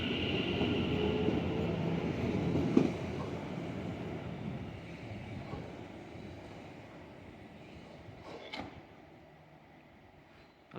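A train rumbles past with a broad, steady roar that slowly fades, followed by a few sharp clanks and squeals of wheels on track.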